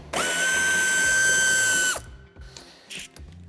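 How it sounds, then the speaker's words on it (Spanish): Power tool spinning out the 8 mm head bumper screw on a 2017-2023 BMW X2 (F39), a loud close whirring whine for about two seconds, then stopping, followed by faint clicks and handling noises. "quitamos el tornillo que sujeta el paragolpes de cabeza de 8"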